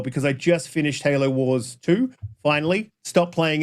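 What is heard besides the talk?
No distinct noise like a dog, phone or traffic.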